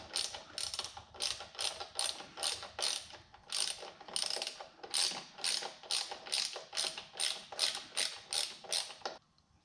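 Socket ratchet loosening bolts on a Ford Bronco, a close series of about twenty evenly spaced clicking pawl bursts in a steady back-and-forth rhythm that stops abruptly.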